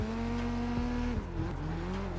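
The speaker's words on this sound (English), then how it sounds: "I'm trying to drift and have fun here." A Nissan Silvia drift car in a racing game squeals its tires in a sustained, wavering screech over a steady engine drone, pitch sliding and dropping as the car slides, loud and close.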